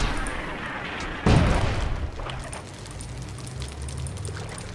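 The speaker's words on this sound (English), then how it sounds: "These Mortars are getting in vicious range." Mortar fire and explosions in a real-time strategy game match, one loud boom early on followed by a dense, steady wash of battle noise and crackling impacts.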